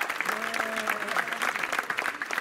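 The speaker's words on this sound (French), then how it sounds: "vraiment un maximum d'applaudissements pour notre ami qui nous a un beau moment." Applause from a French talk show audience for a guest, dense clapping with some tonal background sound and possible voices mixed in, lasting a couple of seconds.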